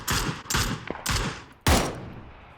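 Several loud video-game gunshots crack in an irregular sequence, three close bursts followed by a heavier blast that echoes and fades.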